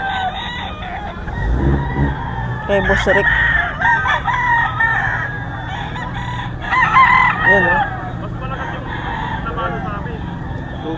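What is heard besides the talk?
roosters crowing at a gamecock market in Bocaue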